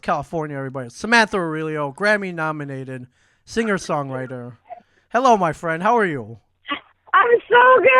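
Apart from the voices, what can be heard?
No distinct noise like a dog, phone or traffic.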